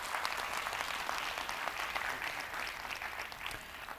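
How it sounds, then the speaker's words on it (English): Faint, steady applause from a conference plenary audience for the panelists, many hands clapping evenly at a distance for several seconds. "Please give my panelists a round of applause"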